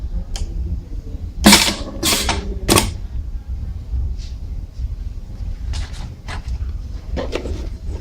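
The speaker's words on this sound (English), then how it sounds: "you've seen the machine stroking" A WCP-10/10F wire crimping press strokes under a hand-operated push switch, giving several sharp mechanical clunks and clacks close by, including a loud cluster of three, followed by lighter ticks over a low machine hum.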